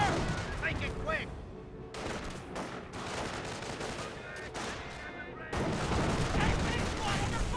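Battle gunfire from the Company of Heroes video game: dense machine-gun bursts and rifle fire crackle continuously, with booms under a busy mix of combat noise and game voices.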